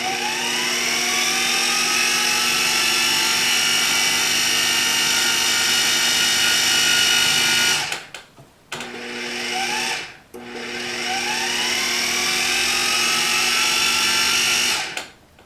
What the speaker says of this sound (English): Put your processor back together and start again.